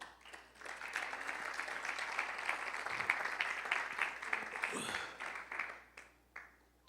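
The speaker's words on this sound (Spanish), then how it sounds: "Denle una ofrenda de palmas a Él." A church congregation gives a round of applause during a sermon, sustained clapping from many people that carries for several seconds before tapering into a few scattered claps.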